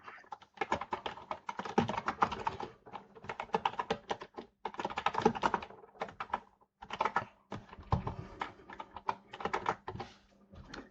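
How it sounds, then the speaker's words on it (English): Rapid computer keyboard typing in irregular bursts with short pauses, close and fairly quiet, clattering keys heard alone without speech. "My keyboard's half underneath this, so I keep hitting the wrong things."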